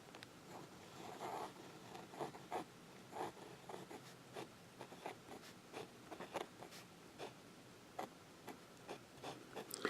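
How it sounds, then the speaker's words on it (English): Hero 1515 fountain pen nib drawn upside down across paper in reverse writing, giving a run of soft, close scratchy strokes and taps in an irregular rhythm on a quiet background. "Now we're going to do reverse writing."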